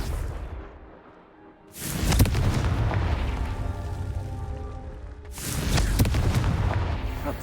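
A Confringo blasting spell in Hogwarts Legacy produces two heavy, booming explosions a few seconds apart, each with a long rumbling decay, close and loud with no talk.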